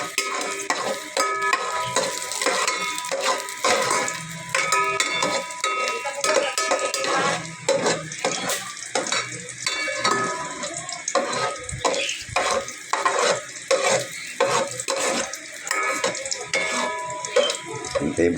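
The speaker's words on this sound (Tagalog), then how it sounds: "Hintayin po natin maging medyo brown yung yung bawang." Garlic sautéing in a pan, a busy sizzle broken up by frequent metallic scrapes and clinks of a spatula stirring against the pan, close and fairly loud.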